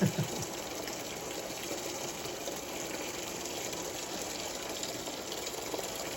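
Coolant drains from a Detroit Diesel 8V71 engine with a steady, continuous splashing rush of liquid that holds an even level throughout, with no talking.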